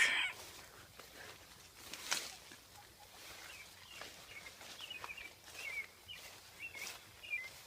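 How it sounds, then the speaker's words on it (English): Chickens in a movable, wheeled coop on a farm in June, heard as scattered soft clucks and brief calls at low-to-moderate level over faint rustling, with no talking. "here you can hear the chickens"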